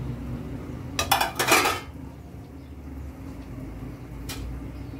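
Chicken going into a metal couscous steamer pot, a loud close burst of clanking metal around the one-second mark, then quiet with a single later clink.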